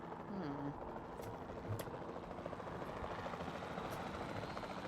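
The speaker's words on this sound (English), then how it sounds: "Then the sensible thing is to take a capture team helicopter." A capture team helicopter in the video game Jurassic World Evolution 2 drones with steady rotor chop throughout, fairly loud and continuous, with a few faint interface blips on top.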